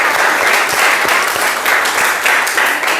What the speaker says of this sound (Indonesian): kita kasih dulu aplaus untuk kelompok